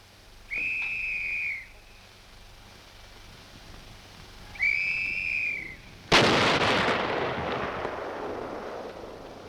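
Weapons test firing at the Aberdeen Proving Ground: two separate steady warning-whistle blasts sound first, then a single loud gun report bursts out and rolls away into a long, fading rumble.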